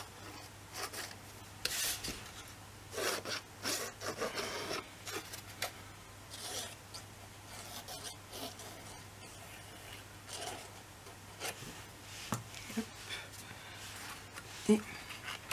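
Paper being glued and pressed down for a handmade scrapbook album makes soft rubbing and brushing strokes in short bursts, close up, with someone speaking French quietly in between.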